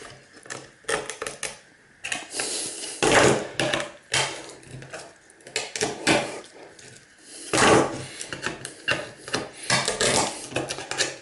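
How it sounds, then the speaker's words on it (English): Chisel scraping and scoring along an IC chip to prise it off a motherboard for gold recovery, rough bursts of scraping in irregular strokes with short pauses, close and fairly loud, no speech. "with the chisel, running along it"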